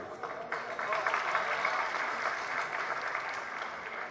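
Audience applause during a Jain religious discourse at the Kundalpur festival, a steady wash of clapping lasting several seconds, moderately distant with a slight crowd murmur.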